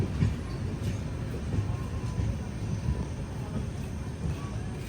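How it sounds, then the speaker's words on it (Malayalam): Netravati Express, running via Alappuzha and hauled by a WP7 locomotive, pulls away from a station in a steady low rumble of rolling wagons, moderately close and continuous, with faint background voices. "ആലപ്പുഴ വഴി പോകുന്ന നേത്രാവതി എക്സ്പ്രസ് ഇതാ ഇവിടുന്ന് എടുത്തിട്ട് പോവുകയാണ്."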